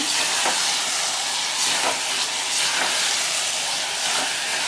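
Cluster beans cooking in a hot pan, a loud dense steaming hiss that runs throughout with faint stirring scrapes, no speech.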